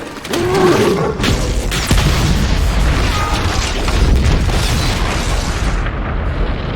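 A big film-scene explosion blasts apart a section of fortress wall, opening with a deep boom and rolling on as a loud, sustained roar of debris and rumble that fades near the end.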